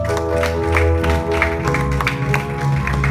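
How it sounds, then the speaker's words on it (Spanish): A church congregation claps loudly and steadily in dense applause, with crowd voices mixed in. "Dale un fuerte aplauso a Dios"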